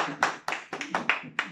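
Hands clap in a short, uneven burst of about six sharp claps for a contestant in a yes-no game, close and fairly loud, with no voices over them.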